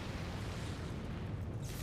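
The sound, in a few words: explosion in the video game Final Fantasy XIV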